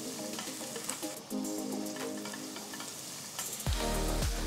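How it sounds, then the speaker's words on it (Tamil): Steady sizzling of chopped onions frying in hot ghee, with stirring scrapes and a louder burst of sizzle near the end, no voices. "நெக்ஸ்ட் 3 மீடியம் சைஸ் வெங்காயம் பொடியை நறுக்குனது சேர்த்து வதக்குங்க."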